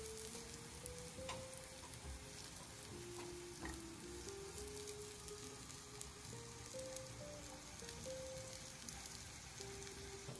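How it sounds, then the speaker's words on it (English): Kothimbir vadi shallow frying in a pan, a faint, continuous, even sizzle like light rain with a faint tonal hum underneath, no talk. "now I put it in pan and we'll shallow fry it for until that get good color, crispy and"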